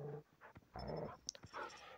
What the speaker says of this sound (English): And now my team has sent all the dogs out there.